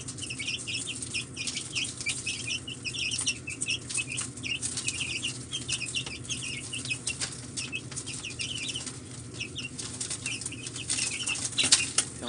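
A brood of Araucana chicks peeps and chirps continuously while eating grass, with scattered wing flaps and scuffling close by.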